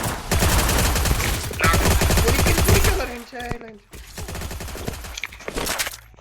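Rapid bursts of video game gunfire crackle loud and dense through the first three seconds, then sparser shots and clatter return after a short lull, with game sounds and a voice mixed in.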